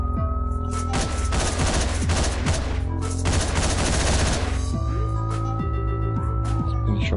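Gunfire in the top-down shooter Hotline Miami, dense rapid bursts of shots followed by a few separate single blasts, loud over pulsing game music.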